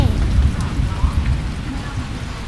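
Steady rain falls in a video game, a dense continuous patter with low rumbling beneath it, loud and close throughout with no clear voices.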